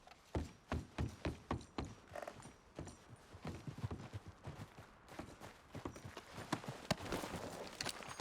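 Horse hooves clip-clop in a steady walking rhythm in Red Dead Redemption 2, fairly close and quiet, with a few uneven, heavier steps and no talk.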